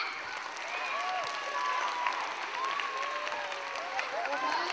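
Pupils at a school assembly receive steady applause from a large crowd of children, a continuous wash of clapping with some high squeals and voices mixed in, heard from a little distance.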